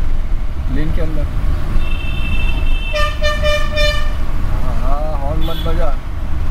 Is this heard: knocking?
no